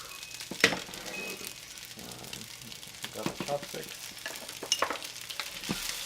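Chicken fried rice mixture frying in olive oil, a steady close sizzle with scattered stirring scrapes and clinks throughout, while someone talks over it.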